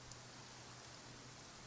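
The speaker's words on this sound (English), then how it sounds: "Why is it raining all of a sudden?" Steady rain falling in the video game Genshin Impact, a dense even hiss of light rain with faint patter throughout and a brief low thump at the end.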